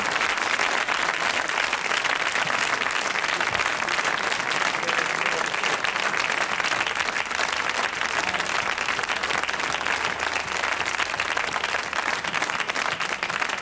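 Audience applause at a 1979 Rockpalast concert, a dense, sustained roar of clapping from a small crowd that continues at an even level without a break.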